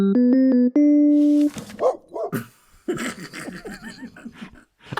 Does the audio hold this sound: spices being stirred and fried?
no